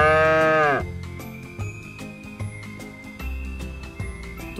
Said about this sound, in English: What's this? It's a cow.